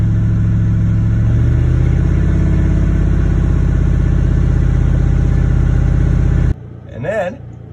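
A 10th-generation Ford F-150 engine holds around 1800 rpm in fifth gear, a loud steady low drone with a rising harmonic whine that cuts off abruptly near the end, followed by a brief voice.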